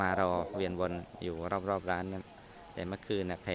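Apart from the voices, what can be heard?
No distinct noise like a dog, phone or traffic.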